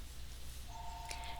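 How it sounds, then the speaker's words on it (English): A phone gives a steady electronic beep tone that starts partway through and holds, faint against a low background hum. "Please excuse my phone."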